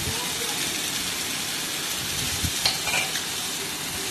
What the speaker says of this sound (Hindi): शिमला मिर्च और बंद गोभी को ज़्यादा गलाने की ज़रूरत नहीं होती, इनको हल्का सा हमने स्टर फ्राई करना है।